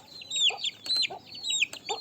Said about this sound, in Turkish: Bu da bir horoz